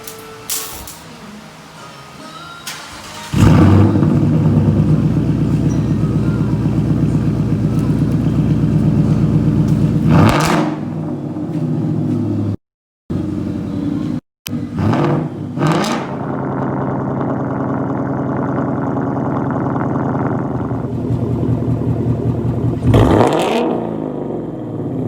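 A 2019 Ford Mustang GT V8 fitted with an X-pipe exhaust, recorded up close: a low idle builds into loud, sustained revving with rising and falling sweeps, broken by a couple of brief cutouts before settling back.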